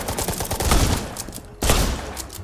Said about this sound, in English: Little shotgun spam off the get-go, so I don't just fucking get instantly killed off.